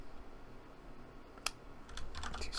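Typing on a computer keyboard while entering a database query, scattered key clicks followed by a quicker run of taps toward the end, close and alone.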